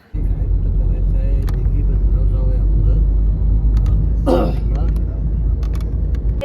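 Family car pulling away from Raigad fort, a steady loud engine rumble and road noise throughout with a brief voice heard over it.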